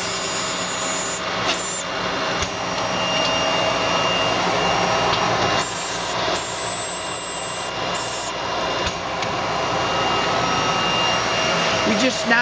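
Cencorp TR2100 router cutting circuit boards at 2400 RPM, a continuous loud high-pitched spindle whine with steady machine hum, interrupted by brief dips and surges in an industrial setting.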